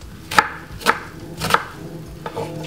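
A large white onion being chopped on a board while cooking Jamaican stew chicken, with three crisp, evenly spaced knife strikes and a softer fourth, close and alone.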